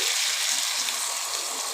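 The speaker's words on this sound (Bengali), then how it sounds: "এবার আমি জল দিয়ে দিচ্ছি" Water poured into a kadai during home cooking of jackfruit curry, a continuous even rush and splash lasting the full stretch, close and fairly loud with no talk.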